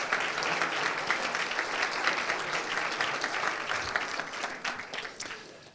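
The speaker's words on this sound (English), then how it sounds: "Okay, the last round of applause." Steady applause from a sizeable conference plenary audience, dense and even throughout before thinning slightly at the end.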